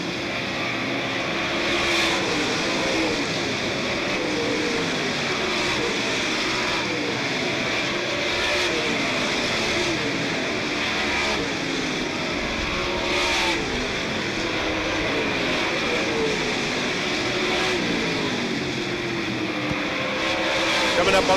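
Super late model race cars roar around a short oval track at Smoky Mountain Raceway, a continuous loud engine drone with passing swells, while an announcer speaks over the noise.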